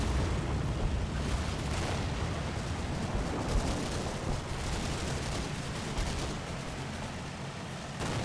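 Artillery barrage in the Combat Mission: Battle for Normandy war game around La Mancelliere, a dense continuous rumble of distant explosions and gunfire filling the whole stretch, steady and loud with no clear separate blasts.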